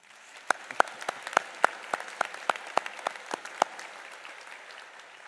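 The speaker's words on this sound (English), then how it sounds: "please join me in another round of applause for our graduates" Scattered, distinct claps ring out at a spring commencement ceremony as the audience applauds the graduates, sharp individual hits spaced about a beat apart over a quiet room, thinning out toward the end.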